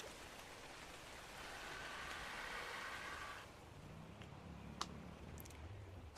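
Steady hiss of rain in the video game ARK: Survival fills the first half, then eases into quieter ambience with a few sharp clicks and low rumbles.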